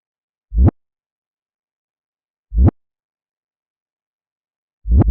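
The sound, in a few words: reversed kick drum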